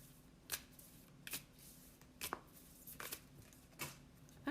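Oracle cards are shuffled by hand in a quiet room, a series of soft, brief riffling bursts at a steady pace, faint and close.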